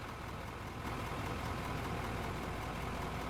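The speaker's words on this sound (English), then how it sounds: "You're just idling away, burning fuel." A vehicle engine idles in the mining and factory game Out of Ore, a steady low rumbling drone that holds even and continuous throughout, with no voices.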